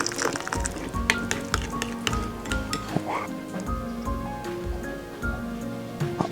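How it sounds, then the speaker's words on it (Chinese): Freshly boiled water is poured onto lotus root starch in a bowl while it is stirred, making steady wet swishing and light rhythmic spoon clinks, with a voice talking underneath. "边倒边搅。"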